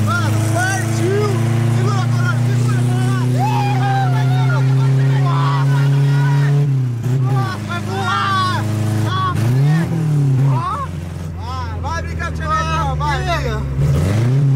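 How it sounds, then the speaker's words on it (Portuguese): A Chevrolet Chevette engine revs and pulls away from a gas station, close and loud, rising and dropping in pitch through several accelerations while people talk over it. "já liguei o Chevette, tá saindo do posto"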